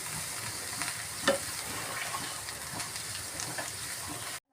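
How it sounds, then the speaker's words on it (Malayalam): Spinach fries in a pan over a low flame, giving a steady, soft sizzle. It is stirred now and then with a light scrape, and nobody speaks. "അതൊന്ന് ഫ്ലെയിം ഒന്ന് കുറച്ച് വെച്ചുകൊണ്ട് നമുക്കൊന്ന് ഇളക്കി കൊടുക്കാം."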